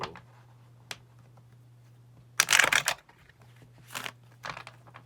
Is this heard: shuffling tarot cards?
yes